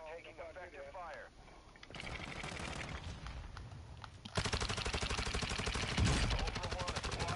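Sustained automatic gunfire in Call of Duty DMZ, dense and continuous, rising louder midway, with players talking over the shooting.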